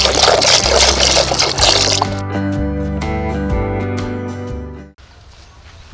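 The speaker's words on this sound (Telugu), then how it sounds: "ఉడకబెట్టుకోవడానికి సరిపోయిన నీళ్ళు పోసుకుంటానా." Water is poured into a pot to boil ten eggs for an egg biryani over a wood fire. A gushing splash is followed by a rising filling tone as the pot fills, then the pour stops abruptly.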